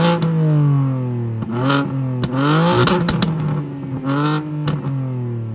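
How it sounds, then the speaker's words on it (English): A 2023 BMW M2 with downpipes and a quad exhaust revs hard several times, the engine note climbing and dropping with sharp crackles and pops in between, close and loud. "let's listen to what this thing sounds like."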